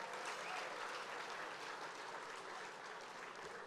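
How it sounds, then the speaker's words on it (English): Steady, even applause from a gala awards audience for a gospel choir, a dense wash of clapping heard from some distance at low level. "Can we give the Howard Gospel Choir another round of applause?"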